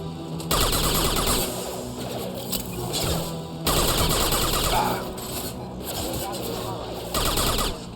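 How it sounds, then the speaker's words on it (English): High impact gunshots from a Mass Effect 2 fight crack out in three loud bursts separated by short lulls, with a voice speaking between and under the shots. "Firing a high impact shot."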